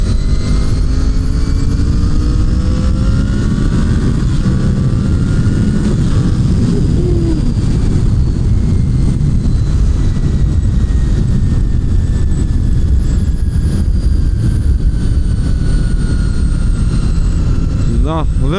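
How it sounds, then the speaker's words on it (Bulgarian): A V4 motorcycle engine fitted with a sport exhaust runs loud and close, its rumble climbing and falling in pitch as the revs shift. The low, droning roar holds throughout, with a voice speaking over part of it. "V-образният 4-цилиндров двигател си е класика"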